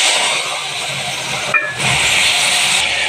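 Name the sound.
spice paste added to hot oil, sizzling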